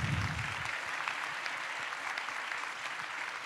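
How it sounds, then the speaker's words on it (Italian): Steady applause from a large audience at a round-table talk event, dense clapping at a fairly even level throughout with no voices standing out. "Un grande applauso anche per loro."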